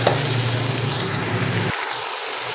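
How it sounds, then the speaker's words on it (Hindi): Tomatoes and onions fry in a pan, a steady close sizzle with a low hum that cuts out partway through, leaving the hiss alone. "ये देखिए माशाल्लाह से टमाटर और प्याज की बुनाई हो रही है।"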